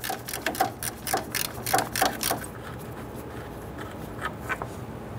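A socket ratchet loosens an 8mm bolt on the radiator cooling fan of a 1994-2004 Ford Mustang, giving a run of quick, close mechanical clicks for about two seconds before a few fainter ones trail off.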